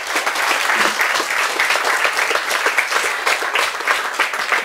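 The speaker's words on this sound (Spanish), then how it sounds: "También les pido un fuerte aplauso para el arquitecto Jorge García Hernández" Sustained applause from an outdoor audience at a street inauguration ceremony in Ixmiquilpan, Hidalgo, loud, dense and continuous clapping from many hands throughout.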